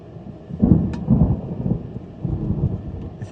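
Thunder rumbles through a storm with rain falling, low rolling booms in two waves over a steady patter, fairly close and with no one speaking.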